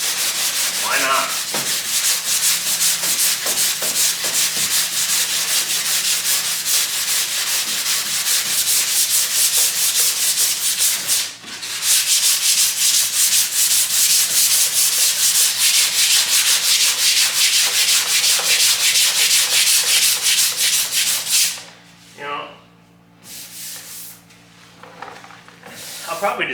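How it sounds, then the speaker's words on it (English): A dual-action sander with a soft pad works over polyester primer, giving a loud, close, continuous abrasive whir with a rhythmic scrubbing texture. It stops briefly midway, then runs on before cutting out near the end. "I could also DA this with the soft pad real quick and then block it"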